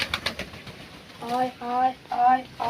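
Pigeons cooing close by, several repeated throaty coos in the second half after some earlier fluttering and tapping, with a person talking nearby.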